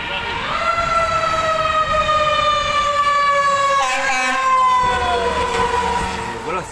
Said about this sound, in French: il y a un camion de pompiers qui passe sur la route à côté de nous